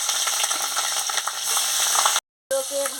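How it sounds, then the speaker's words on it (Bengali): Fish, a bata fish, frying in hot oil in a karahi, giving a loud, close, steady sizzle that cuts out briefly near the end before resuming. "ভালো করে ভেজে নিচ্ছি।"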